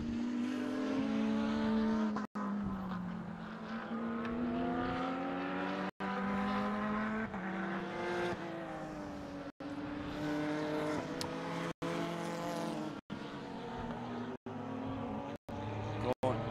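Race cars howl steadily around a circuit during a NSW motor racing championship round, engine pitch rising and falling through gear changes, loud and continuous with brief cuts, and a commentator talking over them.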